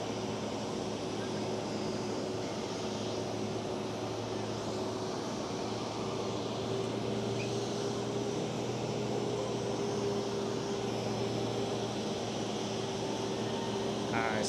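Steady jet engine rumble and whine from airliners, including a Delta Airlines A330, pushing back and taxiing at Amsterdam Schiphol airport, a continuous droning hum heard from nearby with no voices.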